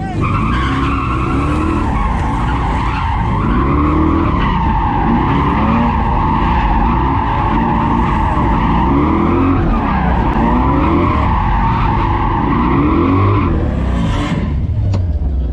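A gymkhana car at a Buzet competition skids continuously with pulsing throttle, the engine note rising and falling loudly over sustained tire scrub, close and alone without speech.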